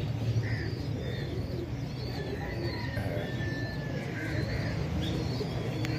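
Pigeons cooing softly amid a busy background, with occasional chirps from other birds.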